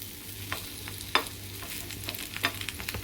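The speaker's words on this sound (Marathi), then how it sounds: "आता आपण पलटी करायचे आहेत आप्पे दुसऱ्या साईडनी" Mixed lentil appe dumplings sizzle steadily in an appe pan while being flipped, with a few sharp scraping clicks from turning them over, close and moderately quiet with no voices.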